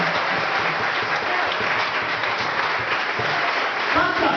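A church congregation applauding in praise of the Lord, a steady, dense wash of clapping that fills the space from start to finish.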